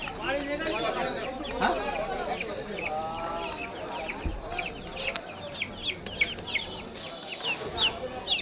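Chickens cluck and squawk in a cage at a poultry market, with busy layered calls close by and people chattering in the background.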